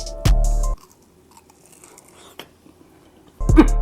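Crunchy turkey tater tots from Thanksgiving leftovers being bitten and chewed, a loud crunchy bite at the start and another near the end, with faint quieter chewing in between.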